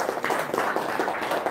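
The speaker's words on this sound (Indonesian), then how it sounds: "Tepuk tangan." An audience at a gathering claps together in steady, dense applause, close and moderately loud, with no talk over it.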